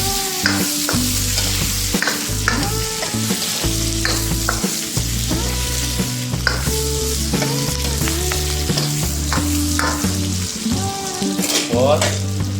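White onion stalk pieces fry in a pan for dinuguan, a steady loud sizzle running throughout alongside music, with no talking.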